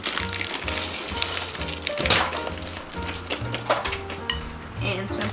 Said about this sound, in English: just go ahead and mix that so the chips are embedded into the mixture.